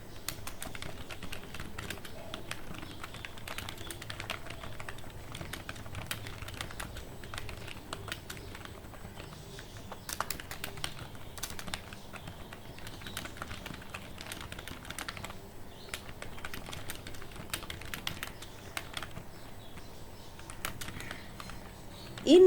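Typing on a computer keyboard to write notes, a steady patter of soft close key clicks with brief pauses and a few louder taps, with no one speaking.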